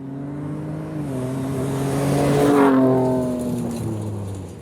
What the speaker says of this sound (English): This is the clip of the new Ranger Raptor accelerating.